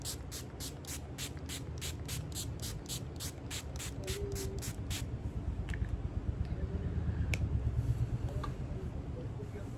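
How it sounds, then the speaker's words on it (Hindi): Makeup setting spray is misted in a rapid series of short hissing bursts at close range, then stops, leaving quiet room sounds and soft handling noises. "And this is a kind of a setting spray."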